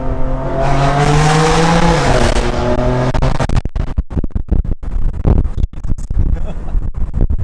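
Car doing a second-gear pull with an aftermarket exhaust, loud rising engine note climbing steadily under acceleration for about three seconds, then giving way to buffeting wind noise and a voice.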